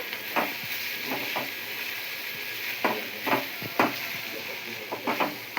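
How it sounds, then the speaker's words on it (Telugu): Grated coconut is stirred into cluster beans frying in a pan, a steady soft sizzle under repeated close scraping strokes from the spatula. "కొబ్బరి వేసుకొని ఇలా బాగా మిక్స్ చేసుకుంటున్నాము"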